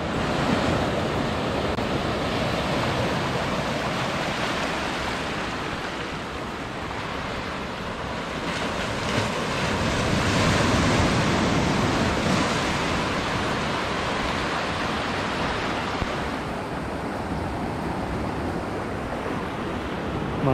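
Sea waves roll in steadily at the Chaikou snorkeling area on Green Island, Taitung, with broad continuous surf and wind noise washing across the whole stretch and no voices.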